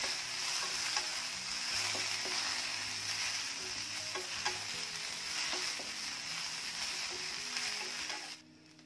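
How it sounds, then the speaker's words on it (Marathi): Okra (bhindi) frying in a pan for a dry vegetable dish, a constant sizzling hiss with repeated scraping stirs of a spatula, moderately quiet, cutting off abruptly near the end, no voices. "भेंडी छान आधी भाजून घेऊया"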